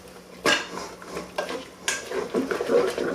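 Chickpeas, capsicum, corn and carrots stirred in a pan for tomato chilli vegetable rice, with a few sharp spoon knocks against the metal and a scraping, clattering stir between them, close and fairly loud with no talk.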